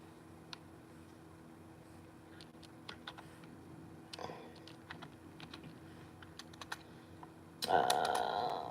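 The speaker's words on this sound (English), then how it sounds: "I'm telling you, my typing." Light, irregular clicking of keys on a computer keyboard, sparse taps and short bursts close to the mic in a quiet room, ending in a louder rustling clatter.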